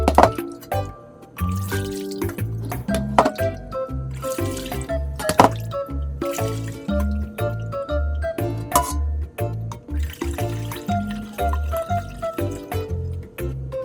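Malt water for making grain syrup strained a second time through a fine sieve, with close, irregular dripping and trickling of liquid and soft taps throughout.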